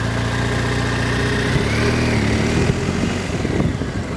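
A motorcycle engine runs steadily, then rises in pitch and drops back as the bike accelerates and brakes through a turn, close and continuous with no talking.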